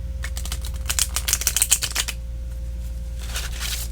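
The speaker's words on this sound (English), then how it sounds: "I have a feeling the more I shuffle these, the better they will like it." A Mystical Dream Tarot deck is shuffled up close, with a quick run of papery riffling taps that pause, then a shorter second burst. No one speaks.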